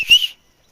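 A single short, shrill whistle blown by a person to call someone from a distance, loud and close, lasting well under half a second before silence.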